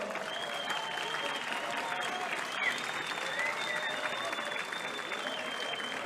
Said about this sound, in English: round of applause for No Limits, Devon Larratt